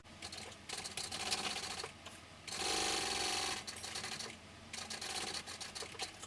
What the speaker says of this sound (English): So I'm sewing that down with the seam allowance given in the pattern